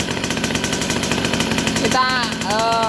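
A motorcycle engine with an imitation aftermarket two-stroke oil pump fitted, its throttle raised so the engine revs up from a steady throbbing idle into a rising, louder tone, close up.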